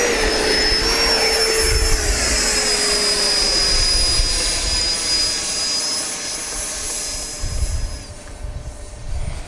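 An FMS Rafale RC model jet with an electric ducted fan taxiing slowly, a loud close whine with shifting high tones and a rumbling low end that swells and eases.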